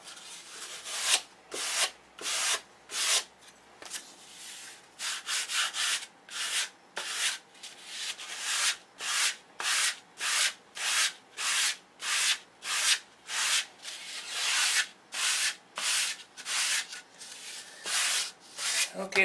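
Sandpaper rubs back and forth on the end of a model aircraft flap in rapid, even strokes, each a short dry scratch, close and fairly quiet, with no talking.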